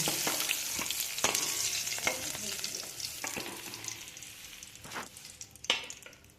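Tangra fish frying in hot oil, a dense, close, steady sizzle with a few sharp clatters from stirring and a brief flare of crackling near the end, with no talk.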